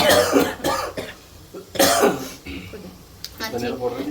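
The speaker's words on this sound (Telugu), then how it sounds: "ఘాటు ఉంది అనమాట అందుకే దగ్గుతుంటేనే మీకు అర్థం కావాలి" Coughing and throat clearing from pungent fumes of chicken masala being cooked for a chicken fry, several short harsh bursts close by, mixed with people talking.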